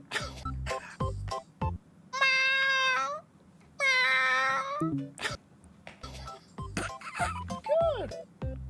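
A man imitates a cat with his voice, giving two drawn-out, wavering meows amid bursts of other talk and background sounds.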